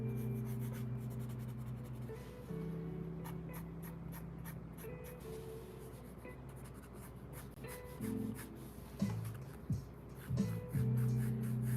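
Pencil on paper while drawing thumbnail sketches of hiking boot concepts, heard as close, quick scratchy strokes and rubbing in short bursts over a steady low background hum.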